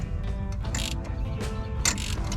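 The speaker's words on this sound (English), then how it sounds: "Just gonna attach my ratchet." A ratchet clicks in short bursts while tightening the starter terminals on a John Deere 3020 tractor, close and crisp against a quiet background.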